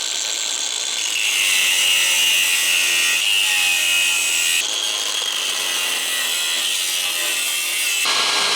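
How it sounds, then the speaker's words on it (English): Power tool cutting away thick rusted metal from the drive shaft tunnel of a Saab 900 Turbo, a loud, steady high-pitched grinding rasp with slight changes in pitch as the cut bites. "What I want to do is to just cut away the thick metal around there and then see what's what."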